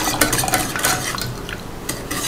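A spoon stirs melted glycerin soap base in a pot close up, giving a steady run of wet scraping and clinking strokes against the metal with no voices.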